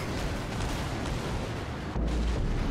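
Torpedo explosions in the naval combat game World of Warships make a loud, continuous booming rumble that swells again near the end, with no talking over it.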